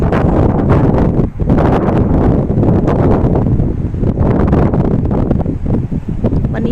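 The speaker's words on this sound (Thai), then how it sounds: "ตอนนี้อยู่ซานฟรานซิสโกอยู่ลมแรงมากเลยค่ะ" Strong wind in San Francisco, at a high viewpoint near the Golden Gate Bridge, buffets the microphone in loud, continuous roaring gusts with brief dips, drowning out other sounds.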